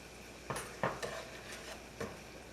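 A spoon scrapes and knocks around a skillet as a flour, sugar, celery seed, salt and pepper mixture is stirred into onions, giving several distinct clinks at irregular intervals with a faint sizzle underneath.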